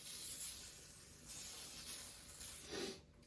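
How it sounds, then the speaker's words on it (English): A soft, airy spray hisses for a few seconds in steady puffs, fairly close, with a brief quieter pause before the last burst trails off. "I just give it a light spray"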